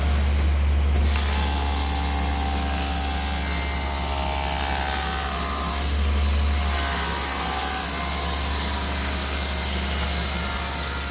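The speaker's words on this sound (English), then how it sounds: "I'll rip those out of a piece of decking, 1 inch wide and 1/4 inch thick" A saw rips decking into splines 1 inch wide and 1/4 inch thick: a loud, steady, whining machine drone with a heavy low hum, briefly dipping partway through before carrying on.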